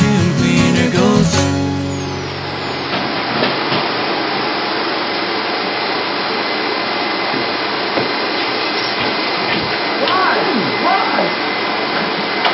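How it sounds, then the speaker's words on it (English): A vacuum cleaner runs with a steady, loud whine, taking over after a short burst of music and carrying on alone at an even level. "The vacuum cleaner goes."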